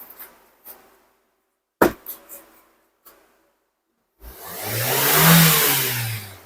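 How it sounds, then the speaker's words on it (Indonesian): A Wuling Cortez automatic car engine revs up hard after a few faint clicks, a loud rising-and-falling surge of engine roar close by, standing alone without talk. "Naiknya gas super cepat, akselerasinya ini akan sangat menyenangkan."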